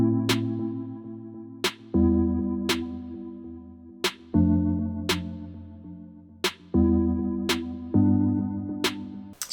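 A beat plays alone, with swung snare cracks over a sustained low bass and chord bed that shifts every couple of seconds in a loose, bouncing groove.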